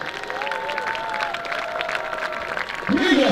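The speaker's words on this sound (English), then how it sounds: "Let's give the seniors one more round of applause." A high school crowd gives the seniors a round of applause, with light, continuous clapping under a tonal melody. The clapping grows louder near the end.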